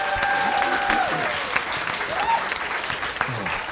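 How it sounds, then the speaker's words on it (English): A convention panel audience at a live show at Dragon Con 2016 breaks into sustained applause, a dense wash of clapping with scattered cheers and voices mixed in. "One more round of applause"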